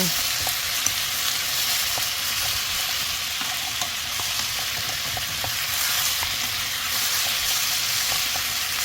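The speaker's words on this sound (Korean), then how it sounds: "썰어놓은 마늘 먼저 같이 넣어서 볶을게요" Sliced garlic sizzles steadily while being stir-fried in a hot pan, a dense constant crackle with scattered light clicks of a utensil moving the pieces.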